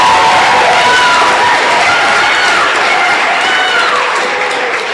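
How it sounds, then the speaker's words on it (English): An audience applauds and cheers for the moderator at a conversation event, a dense, loud wash of clapping with shouts and whoops mixed in, holding steady throughout and easing slightly toward the end. "Please also give the beautiful and brilliant moderator a round of applause, Dr. Ebony Lumumba."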